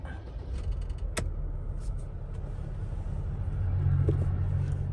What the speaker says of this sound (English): It's just gonna be a diesel sound.